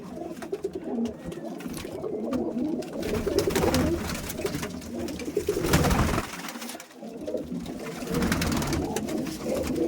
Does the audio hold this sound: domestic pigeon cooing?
yes